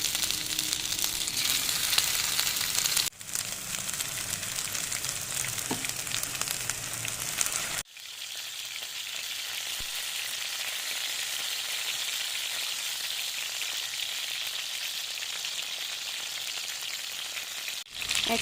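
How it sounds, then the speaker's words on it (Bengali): Marinated masala chicken pieces deep frying in hot oil in a wok, a loud continuous bubbling sizzle that runs unbroken, with two brief dips where the frying noise momentarily cuts out. "কড়াইতে তেল গরম হয়ে গেছে। এখন চিকেনের টুকরোগুলো আমি ছেড়ে দেব।"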